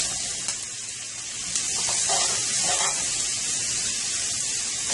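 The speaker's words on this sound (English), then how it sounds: "we're just going to let that saute for a little bit" Mushrooms and onion sauté in a hot pan, giving a steady, even sizzle and hiss close by, with faint scraping as the pan contents are stirred.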